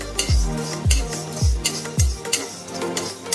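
Poha being dry-roasted in a pan while a spoon scrapes and taps it, four clear metallic scrapes at a steady rhythm, close and fairly loud, with no one talking.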